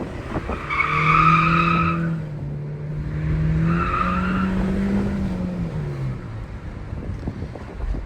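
Mercedes-Benz E180 W214 (170 hp) sliding with tires skidding: two long tonal squeals, each about a second, over steady car and wind noise, close and loud, with no talking.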